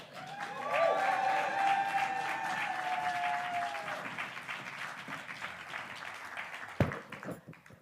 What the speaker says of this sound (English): can we please give a massive round of applause for our Nottingham performer